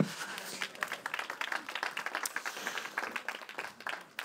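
A church congregation claps during a pastor's sermon, a soft, fairly distant patter of many hands lasting a few seconds, with no voices over it.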